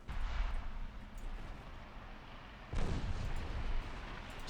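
Torpedoes launching in the naval game Ultimate Admiral Dreadnoughts, heard as a deep rumbling boom with a second heavy thump partway through over a constant low roar of battle, fairly loud and without speech.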